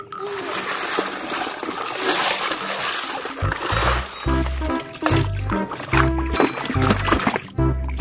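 Water splashes and splatters broadly while toy trucks are washed, with irregular bursts and a voice talking over it and low thumps in the second half.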